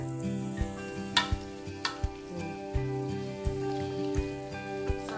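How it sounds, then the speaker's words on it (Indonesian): Sewel fish, a traditional Madura fish preparation, fries in hot oil with a continuous sizzle and frequent sharp pops and crackles at close range. "Oke ini selanjutnya kita goreng ya sewirilnya."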